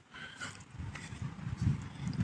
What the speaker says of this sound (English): Yeah, they got the horses out here.